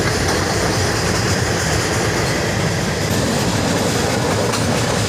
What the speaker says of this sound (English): This train wasn't that long at all.